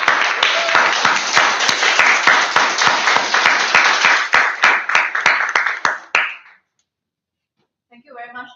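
Audience at a Toastmasters club meeting claps, a dense burst of applause with sharp individual claps that thins out and stops, followed by silence and then a brief voice.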